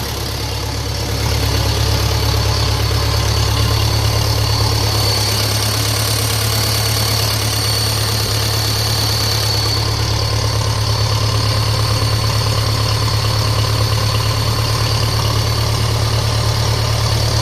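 A 1957 Ferguson FE35 tractor running on TVO idles steadily and loudly nearby, a continuous low rumbling drone with a faint whine above it, unbroken and without talk.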